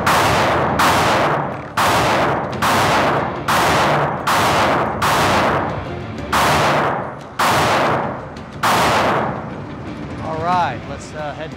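Springfield Armory Hellcat pistol firing at an outdoor range, about nine loud sharp gunshots in a fairly steady rhythm, each with a short echoing tail, followed by a brief voice at the end.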